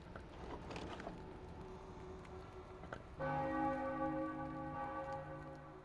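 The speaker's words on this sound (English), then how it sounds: "Oh, I just need to ring the sacred bell" A sacred bell rung in Baldur's Gate II gives a single clear struck tone with sustained harmonic ringing, preceded by soft ambient clicks and rustles.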